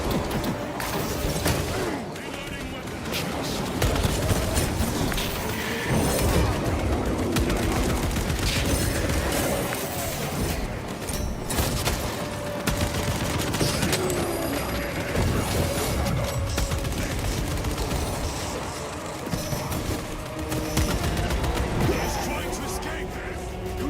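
Gunfire rattles through a Warhammer 40K: Space Marine 2 battle in sustained bursts and volleys, mixed with impacts, booms and combat noise, while voices talk and shout over it throughout.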